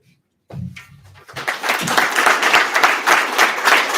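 Clapping from an audience at a poetry reading night builds after a moment of quiet, swelling from a few scattered claps into steady, full applause that carries on loudly to the end.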